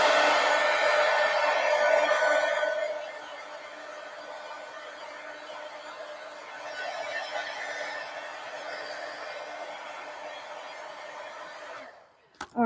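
A hair dryer blows on a mixed media art journal page, running steadily close by at a moderate level, easing quieter partway through and briefly cutting out near the end.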